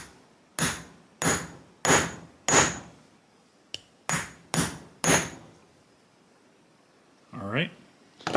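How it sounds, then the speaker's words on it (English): Eight sharp metallic hammer taps on a socket punching a hole in an intake gasket, close and loud, struck in two quick runs of four, followed by a brief squeaky scrape. "We're just going to tap that with a hammer."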